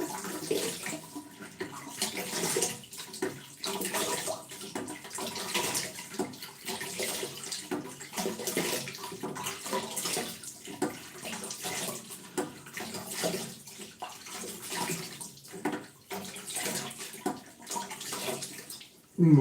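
Hot water running from a tap into a sink for shaving, a steady close splashing rush that continues throughout with small fluctuations.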